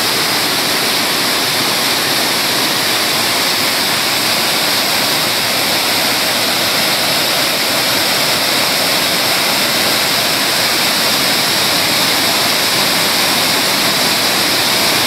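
Cachoeira do Prata waterfall roaring close by, a loud, dense and unbroken wash of falling water with spray, steady throughout with no voices.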